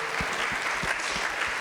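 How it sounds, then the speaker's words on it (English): Audience applause at a community engagement panel event, steady clapping from a crowd filling the short moment without speech. "So give yourselves a round of applause."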